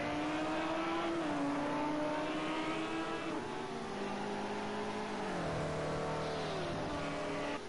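Ferrari race car engine in a racing video game, a loud continuous high-revving whine climbing and dropping through gear shifts, with other cars droning nearby throughout.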